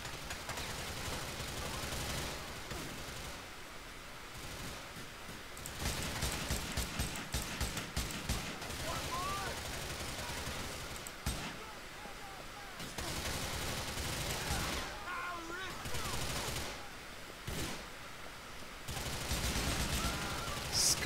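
Enemies firing at the player in GTA 4, with repeated bursts of rapid gunshots breaking out across the scene between quieter stretches, while someone talks over the shooting.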